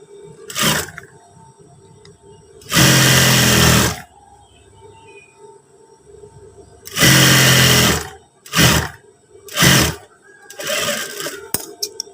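A sewing machine stitches stiff non-adhesive interfacing onto trouser fabric, sounding in about six separate bursts, two of them longer runs and the rest short quick stitches, loud and close with quiet pauses between.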